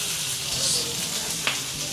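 A little chopped onion dropped onto a very hot plate with sautéed vegetables for chicken pepper steak, giving a steady, close sizzle with a small crackle near the end.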